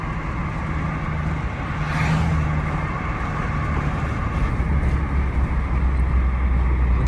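An Infiniti G35 sedan with an ISR single exit exhaust drones steadily on the road, a continuous low rumble at even loudness with no talk.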